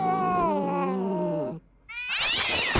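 A cartoon cat lets out two loud, drawn-out meows with a short pause between them, the second higher and more strained.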